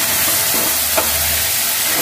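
Onion paste fries in a pan for chicken fry, a loud dense steady sizzle close by, broken only by one faint knock, with no talk.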